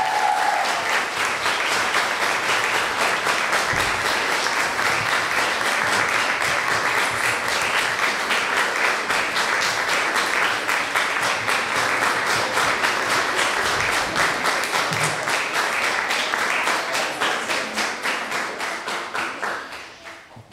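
A concert audience claps steadily and loudly for about twenty seconds after a vocal music band finishes its set, a dense, even applause that tapers off at the end.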